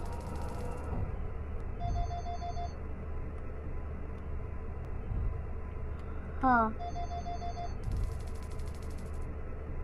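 A real phone rings in the room during a horror game, repeated short electronic ringtone bursts over steady background hum, with a brief spoken exclamation.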